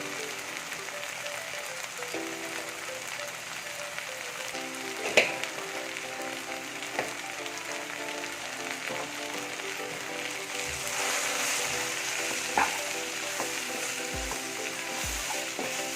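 Ground spice powders, black pepper and coriander, sizzle and fry steadily in hot oil in a pan for a coconut-milk vada curry, with a few louder stirring scrapes and clinks over the constant crackle.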